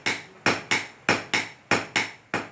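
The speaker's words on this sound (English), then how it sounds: "the ringing and banging of steel and iron being beaten with hammers resounds throughout Hue Thị village" Blacksmiths in Hue Thị village, Vietnam, beat steel and iron with hammers, making eight sharp ringing metallic strikes at a steady, slightly uneven rhythm, each clang decaying quickly with no voices present.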